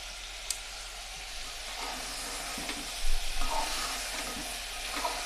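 Chicken stew with lemon juice being stirred in a pan, a soft continuous sizzle and hiss with a few scraping stir sounds and light knocks, close and moderately loud.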